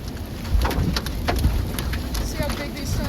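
Hail driven by a tornado storm's rear-flank downdraft near Omaha, Nebraska pelts down in a dense, continuous clatter of close impacts over a roaring storm wash, with scattered louder hits.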